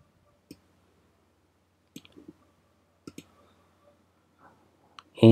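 Sparse computer mouse clicks, single and in quick pairs, spaced irregularly over a few seconds in a quiet room, with a louder thump at the very end.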